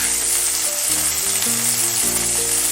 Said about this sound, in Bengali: সব কটা পাতুরি বানানো হয়ে গেছে, আমি একটা একটা করে তেলে দিয়ে দিচ্ছি